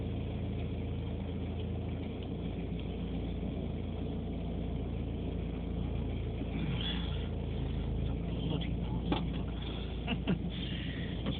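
Diesel engine of a left-hand-drive 1981 VW LT Westfalia camper van, probably a 1.6 diesel, running at a steady low rumble throughout, with faint knocks and clatter toward the end.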